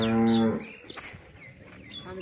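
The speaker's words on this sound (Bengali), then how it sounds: "এই যে একটি গাভী" A dairy cow at a cattle farm gives a single loud, close moo that cuts off after half a second, followed by faint background noise.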